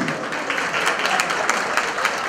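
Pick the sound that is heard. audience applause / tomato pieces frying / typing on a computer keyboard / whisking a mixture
audience applause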